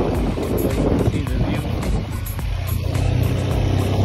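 A Honda CRF150 dirt bike rides along a dirt road, its engine a steady close drone under heavy wind buffeting for the whole stretch.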